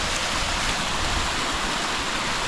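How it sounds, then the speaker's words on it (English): A waterfall on a Southern California hike pours in a steady, full roar of rushing water, loud and close, with no voices over it. "It's our first waterfall, Elise"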